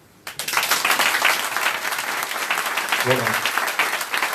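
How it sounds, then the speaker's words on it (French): Thunderous audience applause bursts in after a brief quiet moment and continues as dense, loud, even clapping to the end, with a short spoken word cutting through midway. "ce tonnerre d'applaudissements"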